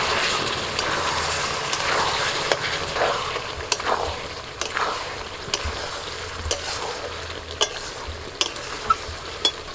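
Chicken braising in its own released juices with spices for a coriander chicken dish, a steady sizzle and bubbling with occasional stirring scrapes of a spoon in the pan, close and continuous without talk.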